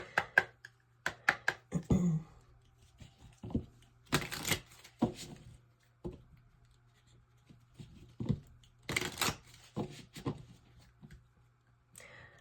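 Tarot cards being shuffled and handled up close, quiet bursts of riffling and flicking that come and go in uneven clusters, with soft taps and rustles between them.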